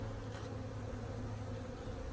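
Honeybees buzzing around a heavy frame of capped honey during a nucleus colony install, a steady, dense hum close by with no voices.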